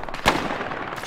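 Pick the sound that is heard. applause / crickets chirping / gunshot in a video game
gunshot in a video game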